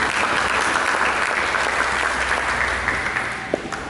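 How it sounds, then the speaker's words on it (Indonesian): Steady applause from a church congregation fills the whole stretch, dense and even, tapering slightly near the end. "Mari kita berikan tepuk tangan."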